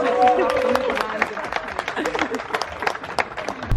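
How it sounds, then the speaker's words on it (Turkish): A small group claps in scattered, uneven applause, with voices and chatter mixed in throughout. "Alkış!"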